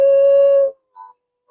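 Adult coyote howls in a long, steady tone with harmonics for most of a second, then breaks off; a short higher call follows after a pause, with another brief one starting at the end.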